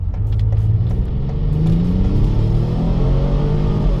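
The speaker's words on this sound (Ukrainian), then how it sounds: "Зараз ми з вами спробуємо розігнатися від нуля до сотні" A 2018 Ford Explorer Platinum with the 3.5 EcoBoost engine in sport mode accelerates hard from a standstill toward 100, its engine drone rising steadily in pitch, loud and close with a continuous rumble.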